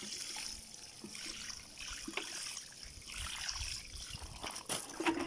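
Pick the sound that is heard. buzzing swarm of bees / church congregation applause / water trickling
water trickling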